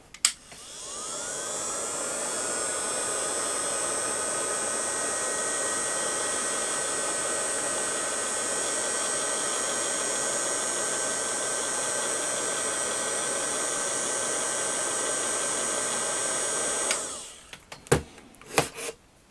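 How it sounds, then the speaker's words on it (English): Heat gun blowing on the handle of a toy vintage Kenner Indiana Jones whip, a steady loud whirring roar held for about sixteen seconds before switching off, followed by a few handling clicks. "let's get the heat gun on that and see how it looks"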